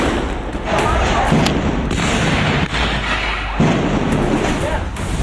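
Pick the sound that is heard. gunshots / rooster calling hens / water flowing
gunshots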